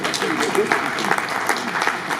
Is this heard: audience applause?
yes